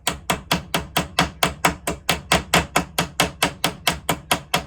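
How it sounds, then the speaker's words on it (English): A steady series of about twenty even hammer taps on a knife resting on a flat surface, each a crisp metallic knock at a quick regular rhythm, close and fairly loud. "you just start to tap. Again, don't force it. Let the hammer do the work."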